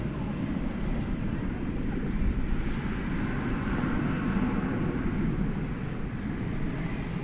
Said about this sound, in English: So yonder comes the Spirit of Australia. 787-9 Dreamliner, about to make a long trip